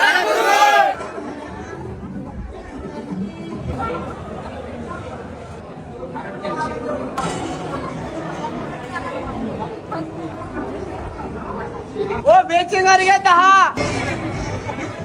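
At a busy Kolhapuri restaurant, a crowd's chatter and general babble fill the room steadily, with a nearby voice talking over it and a louder burst of voices near the end.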